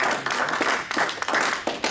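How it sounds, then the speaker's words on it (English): People at a city water board meeting applaud for a departing member, a steady patter of close hand claps from a small group that lasts about two seconds. "let's give him a round of applause"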